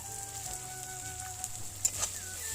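Chili powder goes into a pan already sizzling, a soft, steady frying hiss with a few light crackles and stirring clicks, fairly quiet and with no voices.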